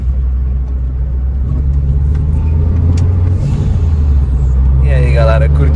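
A turbocharged Chevrolet Corsa on iron wheels is driven hard on a highway, its engine a steady, loud low rumble that stays constant throughout, with road and wind noise and some talk over it.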